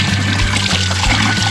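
Water runs steadily from a pipe at a mountain spring in the Uttarakhand hills of the Rupin Valley, a close, continuous splashing trickle with no voices.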